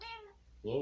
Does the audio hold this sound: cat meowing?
yes